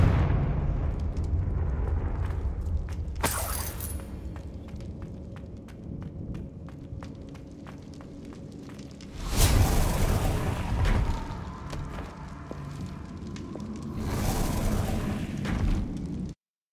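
A Confringo spell explosion in a wizarding video game, a sudden loud blast that rumbles on for several seconds, with a second burst of roaring, crackling energy later on.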